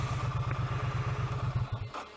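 A Triumph Street Cup 900 twin-cylinder motorcycle idles nearby with a steady, lumpy low throb, fairly quiet and with no talking.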